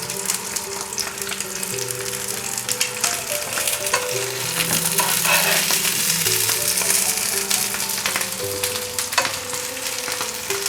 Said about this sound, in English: you just want to turn and toss your sausages until they get a nice colour on them